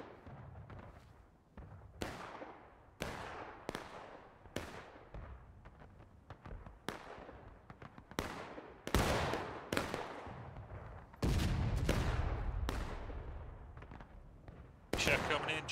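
Musket volleys in War of Rights, a Civil War battle on Nicodemus Hill with 170 players: repeated sharp cracks and booming volleys at irregular intervals, some near and loud, others farther off, over a steady battlefield din.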